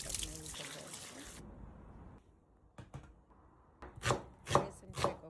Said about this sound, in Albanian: Presim 3 kokra qep mesatare, 3 speca dhe 3 domate.